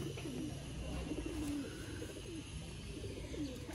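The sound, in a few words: pigeons cooing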